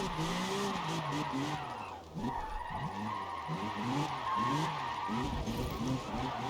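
A car slides and skids on stock tires with a differential fitted, engine revs rising and falling in quick bursts amid tire squeal and scrubbing, close and continuous.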